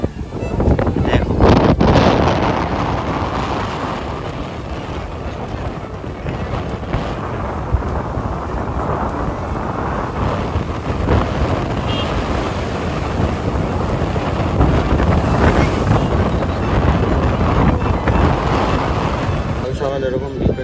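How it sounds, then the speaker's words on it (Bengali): Strong wind roars and buffets the microphone at Old Digha beach, with the sea crashing in a dense, continuous wash throughout, loud and unbroken. "আর হাওয়া মানে চলতে পারছি না আমি রাস্তা দিয়ে"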